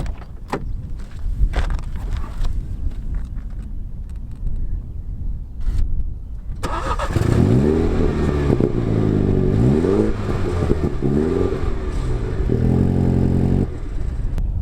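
A 2016 MINI Hatch 2.0 John Cooper Works idles roughly, then fires up and revs several times in rising and falling sweeps, loud and close, with the engine note sustained throughout.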